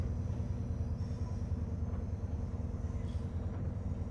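A locomotive in Train Sim World 6 rumbles at high power, a steady low engine drone with pulsing throb carrying on through the whole stretch, no talk over it.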